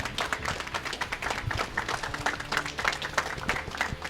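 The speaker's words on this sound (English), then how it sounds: "Let's close it out with a little cheer." A small group of people applauds and cheers at the close of a wrestling talk show, dense clapping running steadily for a few seconds with a little voice mixed in.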